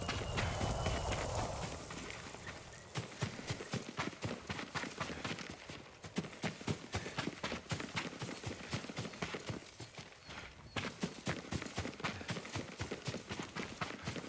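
Horse hooves clip-clop in a fast, steady rhythm across the ground in the Ghost of Tsushima video game, close and continuous, with a brief softer stretch at the start and no talk over them.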